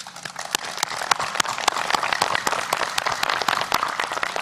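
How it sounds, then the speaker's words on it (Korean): Applause from the audience at the 2018 inter-Korean summit's joint declaration announcement at Panmunjom, a steady, moderate clatter of many hands with sharp individual claps standing out. "대담하고 용기 있는 결정을 내려준 김정은 위원장에게 박수를 보냅니다"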